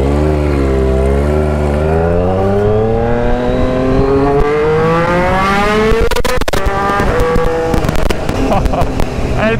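A Kawasaki Z H2 motorcycle engine revs loudly, pitch climbing steadily through the gears up close, then breaking into sharp crackling bursts; a voice speaks briefly over it.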